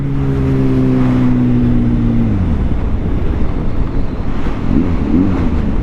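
A 2023 Kawasaki ZH2 motorcycle engine holds a steady, loud drone that sags in pitch partway through, then gives way to a heavy roar of wind buffeting the microphone at speed.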